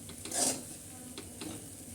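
Poha stirred in a pan, a faint low sizzle broken by a few soft scrapes and light clinks of the spoon, quiet and close.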